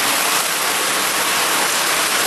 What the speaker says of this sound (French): C'est le déluge ici.